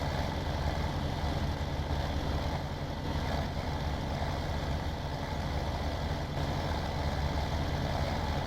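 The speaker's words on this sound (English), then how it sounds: "we have the plough working over here in the John Deere 6810" John Deere 6810 tractor engine in Farming Simulator 17 rumbles steadily while pulling a plough, a constant low drone with no voices over it.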